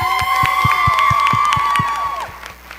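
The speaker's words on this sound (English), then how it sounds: "Let's give it one more round of applause for all of our seniors" An audience cheering seniors after a school stage production of A Midsummer Night's Dream, loud sustained whoops and shouts over rhythmic thumping beats, fading near the end.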